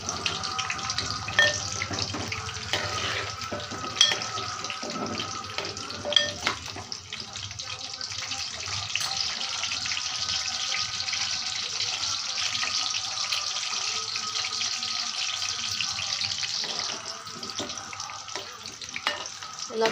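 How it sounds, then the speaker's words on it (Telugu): Food frying in a pan, a steady low sizzle with occasional clinks and scrapes of stirring, fairly quiet and continuous throughout with no speech. "ఇలా ఫ్రై చేసుకోవాలి బాగా."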